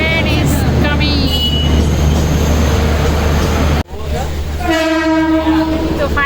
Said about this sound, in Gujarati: train is coming